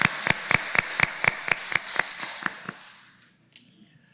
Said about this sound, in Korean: 한번 박수해 주시면 고맙겠습니다